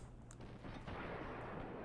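Distant explosions and booms rumble in Fallout 4, with a couple of sharp cracks early on and a steady low roar building underneath, fairly faint overall.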